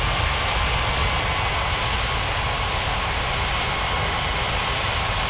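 FedEx jet aircraft taxiing toward runway 27, a constant, loud engine roar that stays level from start to finish with no voices.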